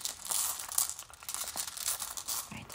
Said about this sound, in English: I think your runes have had a really good shuffle.